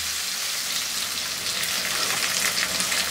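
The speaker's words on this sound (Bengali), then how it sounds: "তো মাছগুলাকে আমি উল্টায় পাল্টায় সব দিকগুলা ভালো মতো ভেজে নিলাম" Pieces of rohu fish fry in a pan, turned so every side browns. A steady, dense sizzle runs close and fairly loud for the whole stretch, with no voices over it.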